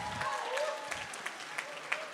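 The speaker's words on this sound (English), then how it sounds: "Let's give them a round of applause." Guests at a family celebration applaud the host families, with scattered, fairly faint claps mixed with voices talking over them.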